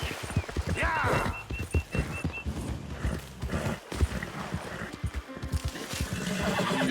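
A horse in Red Dead Redemption 2 whinnies clearly at the start, then its hooves clop in a fast, steady rhythm while a voice speaks briefly over the galloping.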